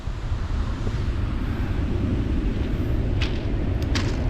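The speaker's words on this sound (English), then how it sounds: "just the sound of the power of those waves" A steady, heavy roar of ocean surf fills the scene, partly buried under gusty wind buffeting the microphone.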